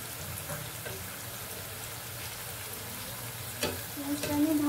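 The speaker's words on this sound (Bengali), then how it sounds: "পেঁয়াজটা আমি ভাজতে দিয়ে দিয়েছি।" Sliced onions frying in a pan for chicken biryani, a soft continuous sizzle with occasional scraping stirs, a louder clatter near the end, no speech over it.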